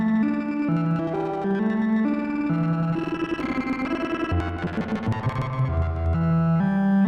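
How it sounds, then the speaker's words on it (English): Eurorack modular synth oscillator run through a granular grain filter with a dry/wet mix, giving sustained pitched tones that step through notes under a shimmering, smeared granular texture, steady and fairly loud throughout. "So now I will use the grainity filter for this oscillator."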